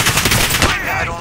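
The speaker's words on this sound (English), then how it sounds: "We're both shooting him." A burst of rapid automatic gunfire rattles loudly and continuously during a video game shootout, the shots running together for about a second before tailing off.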